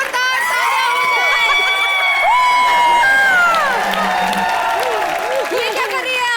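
Studio audience on a Comedy Nights Bachao comedy show cheers and shouts loudly with applause underneath, a dense crowd roar holding steady for several seconds, mixed with whoops and voices calling out.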